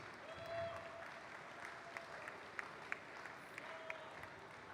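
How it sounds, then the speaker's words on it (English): An audience at the Global Esports Games in Mumbai applauds the top three Dota 2 teams: a steady wash of clapping with a few sharp whistles cutting through, fairly distant and soft throughout. "a huge round of applause for our Dota 2 top 3 teams"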